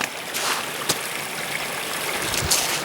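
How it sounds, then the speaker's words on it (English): A river spills over a small waterfall in a mossy, watery spot, producing a steady, close rush of splashing water with a few brief louder splashes and no voices. "Nice little waterfall."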